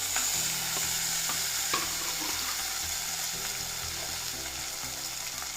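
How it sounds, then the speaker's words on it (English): Four chopped medium tomatoes fry steadily in a pan for a South Indian tomato rasam, with a close, continuous sizzle and scraping stirs of a spoon throughout, no talking. "we have to add the chopped tomatoes. 4 chopped tomatoes."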